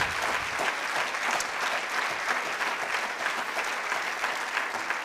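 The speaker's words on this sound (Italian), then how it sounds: "vorrei un grande applauso per le due persone che hanno collaborato a questa iniziativa" An audience at a talk on creativity and cognitive mechanisms applauds in a dense, steady patter of many hands clapping throughout, fairly even in loudness with no voices standing out.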